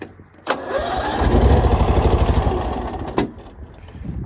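An old engine-driven machine at an equipment auction cranks and starts on choke: a sharp starter hit, then a loud, rough, close running rumble for several seconds before a second clunk as it settles to idle.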